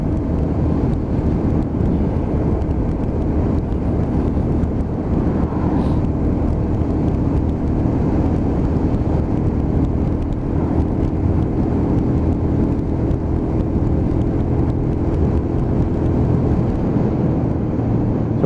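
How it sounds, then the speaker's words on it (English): Lexmoto LXR 125 motorcycle engine on a ride test, a steady, loud drone with wind rush throughout, no distinct revs standing out. "Get that mileage on the bike and just show the customer what this bike does."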